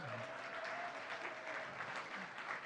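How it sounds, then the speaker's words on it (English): An audience applauds at the opening ceremony of the 2030 In Sight Live conference in Nepal, a steady wash of many clapping hands heard from a distance and fairly faint. "Everyone else, give them a round of applause."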